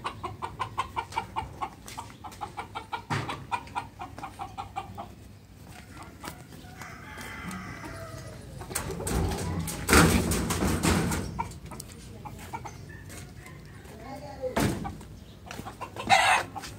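Hens clucking and a rooster crowing in a home coop, with repeated close clucks early on, then a busier stretch of fowl calls, scuffling and a few sharp knocks.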